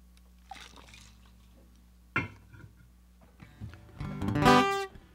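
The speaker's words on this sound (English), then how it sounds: "I'm going to have a little drink of water here quick" Water is poured into a glass and drunk indoors at a small house concert: a soft splash, then a clink, then a louder liquid gurgle near the end, close and without talk.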